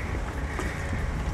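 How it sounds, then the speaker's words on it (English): Wind buffets a microphone outdoors, giving a steady broadband rumble and rush for a moment, fairly faint and without any talk. "It's very windy,"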